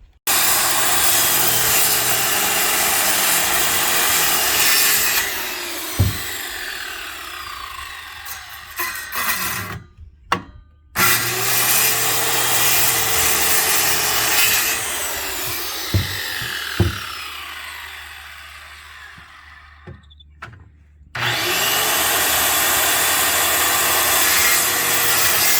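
A hand saw cuts through a wooden post in long rasping back-and-forth strokes, pausing twice before starting again.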